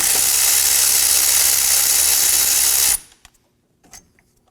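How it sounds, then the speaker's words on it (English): Rapid ratcheting of a 14mm socket wrench loosening the brake caliper bolts on a 2016-2020 Kia Sorento, a dense continuous whir for about three seconds that cuts off abruptly, followed by a few faint clicks and taps. "Using a 14mm socket, we're gonna be removing the caliper bolts."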